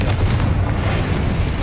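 A Confringo blasting spell goes off in Hogwarts Legacy, giving a loud, sustained booming explosion with a rumbling low end that fills the short moment on its own, with no voices over it.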